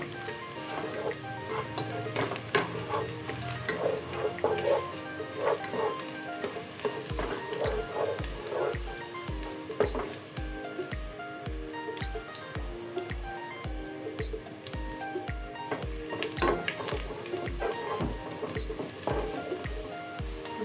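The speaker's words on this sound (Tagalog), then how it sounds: "Hihintayin natin mag-golden brown itong garlic." Garlic frying toward golden brown in oil for a chicken sotanghon glass-noodle soup, giving a continuous soft sizzle with light stirring scrapes and a faint regular ticking underneath, no talking.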